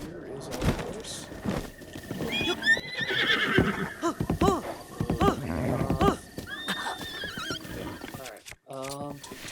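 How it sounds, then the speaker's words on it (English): A horse in the game Breath of the Wild neighs and whinnies several times amid clip-clopping hooves and game effects, fairly close and loud, with a short chime-like tone near the end. "So here is our horse."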